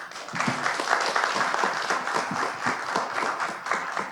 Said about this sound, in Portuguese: Mais uma vez, uma salva de palmas agora.